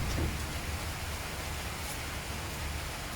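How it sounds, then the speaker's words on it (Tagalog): Rain falls steadily, making a dense, even hiss with no break and no voices over it. "May ulan na naman."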